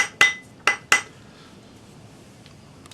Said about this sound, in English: with your rawhide hammer, because this is fine silver, it'll be easy to stretch it